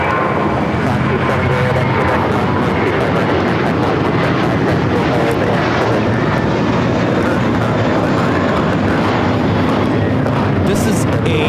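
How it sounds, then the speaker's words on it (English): A JetBlue Airbus A321 airliner takes off, its jet engines giving a loud, continuous broadband roar that masks everything else at an outdoor spotting spot near an airport. "This is a defining moment taking off to Fort Lauderdale. JetBlue Flight 100. It's an A321"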